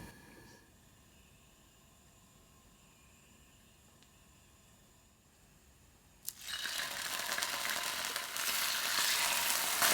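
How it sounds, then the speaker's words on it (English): Vegetable oil heating in a pan for ginger pork stir-fry: quiet at first, then a loud, steady broadband sizzle bursts in and keeps building to the end. "Heat the vegetable oil in a pan."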